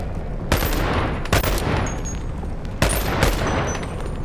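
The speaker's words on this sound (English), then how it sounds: "I did just shoot him, so he might be annoyed with me" Gunfire in the VR shooter Boneworks, with armed guards firing in a street: a sharp shot, a close pair of shots, then another close pair, each over a loud continuous background rumble.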